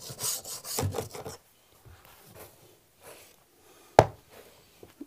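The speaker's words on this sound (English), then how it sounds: "you probably want to take your scraper and remove all the pad staples" A scraper grates across a hardwood floor to remove carpet pad staples, making two bursts of harsh, close scraping followed by quieter rubbing and one sharp metallic knock.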